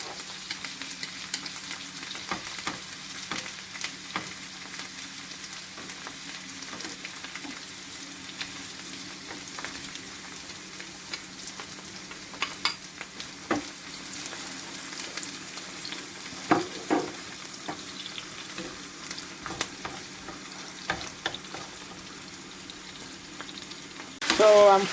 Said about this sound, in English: So I'm frying my chicken.